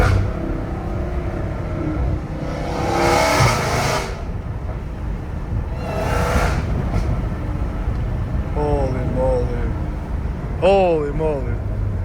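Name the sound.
Dodge Hellcat Redeye revving with titanium catback exhaust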